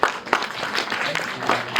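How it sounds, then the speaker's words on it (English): Crowd applause at an interns' meet for student interns, a steady wash of many hands clapping, moderately loud, with faint voices mixed underneath. "But I think they deserve a huge round of applause."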